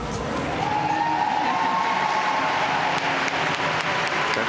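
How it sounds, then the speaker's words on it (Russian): Sustained applause from an arena audience at a 2012 World Figure Skating Championships short program, a broad, even wash of many hands clapping at moderate distance, with faint crowd cheering mixed in. "он стоя сейчас аплодировал Кевину Рейнольдсу"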